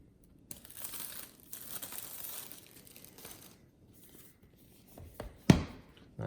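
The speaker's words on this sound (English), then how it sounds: "They have a little handy buddy tab here, so we will peel that back, which has now led to an opening in the packaging." Apple Watch Series 4 packaging being peeled open by its pull tab, faint crinkling and rubbing in short bursts, then a sharper tearing rip near the end.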